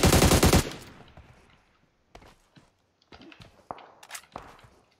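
A loud, rapid burst of automatic gunfire in PUBG Mobile opens, then fades into quiet scattered footsteps and a few sharp thuds and clicks, close by, with no voices.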